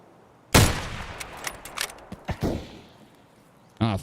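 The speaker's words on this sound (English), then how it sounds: "that was one of my nastiest shots I've ever made in this game" Rifle shots in a video game, one sharp loud crack followed by a few fainter scattered shots and a final burst at the end.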